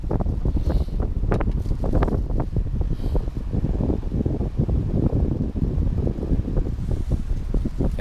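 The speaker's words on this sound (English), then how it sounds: "It was another windy morning" Steady wind at a campsite buffets the microphone with a constant low roar and rumbling gusts, and no voices are heard.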